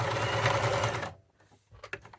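A sewing machine runs a straight seam on a fabric headband, set with a magnetic guide at three-eighths of an inch: a loud, steady motor whir for about a second that stops abruptly, followed by faint handling clicks.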